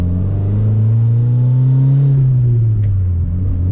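A turbocharged Mitsubishi Lancer Evolution VII engine rumbles and revs up on boost, its pitch rising steadily under load before easing off, close and loud with a whirring edge.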